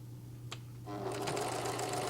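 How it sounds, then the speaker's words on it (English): A sewing machine stitches along the lace edge of a sun dress, starting after a short click and then running steadily and close up, with no talking. "I'm stitching right on the edge there"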